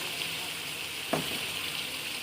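Beef korma with curry leaves, cardamom, cloves, cinnamon and nutmeg fries in a pot, giving a steady soft sizzle throughout with one brief stirring scrape midway.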